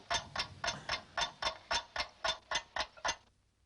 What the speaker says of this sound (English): Oh, it was her who was ticking.